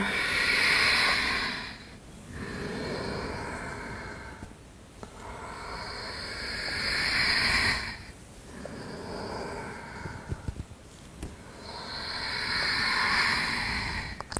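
Slow, deep yoga breaths during a hatha yoga routine: several long, airy inhales and exhales in a steady rhythm, each a few seconds long, heard close and fairly loud with no talking.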